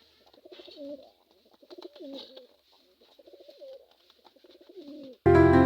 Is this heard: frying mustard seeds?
no